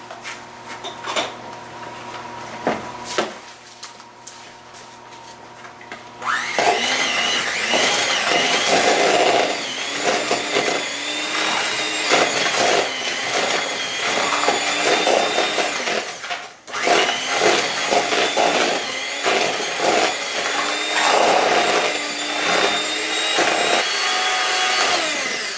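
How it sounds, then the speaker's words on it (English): An electric mixer creams sugar for a red velvet cake batter, starting after a quiet stretch with a loud, steady high whir that runs continuously, briefly dipping midway, with no voices heard. "So then we're going to cream this together."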